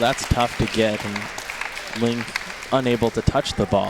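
Crowd at a college table tennis nationals match in Texas cheers and applauds in bursts, a steady hiss of noise beneath a commentator talking throughout.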